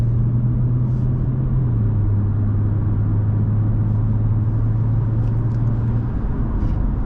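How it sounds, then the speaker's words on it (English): A 2020 Audi S4 3.0T Premium Plus pulls away under acceleration, a loud steady engine rumble with a rising then settling drone sustained for several seconds, heard from inside the car with no talking. "let's let the traffic through and do our actual acceleration test"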